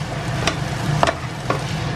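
Sweet, sour and spicy ingredients being stirred together in a bowl: a few brief scraping and clinking stir strokes, roughly three distinct ones, over a soft steady background hiss, close and moderately loud.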